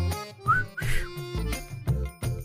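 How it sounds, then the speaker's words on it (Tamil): Someone whistles in a Tamil TV drama scene: a couple of brief, high, gliding whistle notes stand out among choppy, bursty background sounds. "என்ன ஏதோ விசில் அடிக்கிற சத்தம்"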